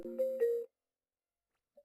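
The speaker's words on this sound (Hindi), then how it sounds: "टॉप सेक्रेटरी एन जुन, उन्होंने मुझे फोन किया है। जल्दी उठाओ" A phone rings with a short electronic tonal trill lasting under a second, followed by silence and a faint brief tone near the end.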